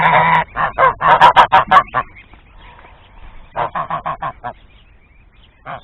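Young goose goslings out on a pasture honk in loud bursts of rapid repeated calls, pause briefly, then break into another run of honks up close.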